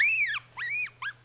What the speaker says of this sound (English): That's the sound of a baby yellow-bellied marmot screaming.